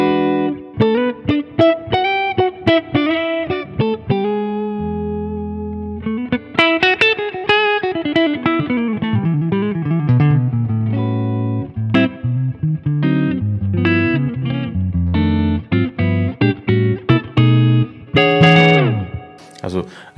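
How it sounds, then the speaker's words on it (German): A hollowbody electric guitar played with a clean, round, bassy jazz tone, sounding a string of plucked single notes and chords that ring and decay clearly, alone and close. "das ist vielleicht schon so der typischste Hollowbody-Sound. Klingt sehr jazzig, sehr bassig und einfach sehr clean und rund."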